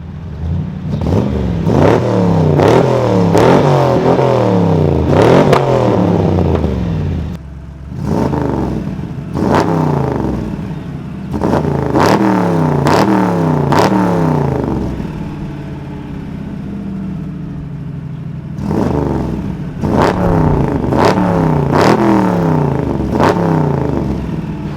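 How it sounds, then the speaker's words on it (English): A Mustang's side exit exhaust revs hard in repeated bursts, climbing and falling with each blip, loud and close, with brief pauses between runs. "not gonna be too annoying considering it's side exit exhaust"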